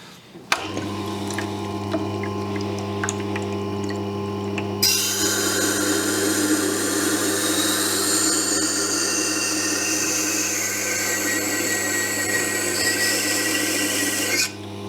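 A Leatherman multi-tool blade held in a small knife jig is sharpened on a powered sharpener: a steady motor hum, then a bright, continuous grinding rasp that runs for about ten seconds before cutting off.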